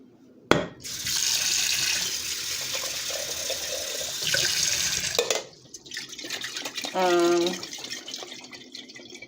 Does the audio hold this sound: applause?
no